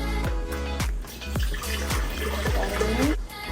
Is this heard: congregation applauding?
no